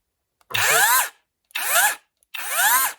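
A battery chainsaw motor spins up three times in short bursts, each a whining rev that rises and falls as the shaft turns out of the gearbox, close and loud with silence between bursts.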